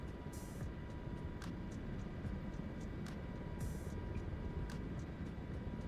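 An MH-60 Black Hawk helicopter flies in Microsoft Flight Simulator, a constant low engine and rotor drone with faint high whines and brief bright bursts over it, heard alone.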